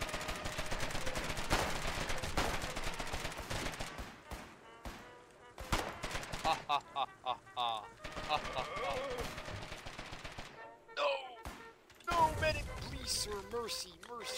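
Rapid bursts of gunfire from the war game Foxhole crackle through a busy battlefield mix, with sharp single shots and automatic volleys over a steady din, while several players talk over it.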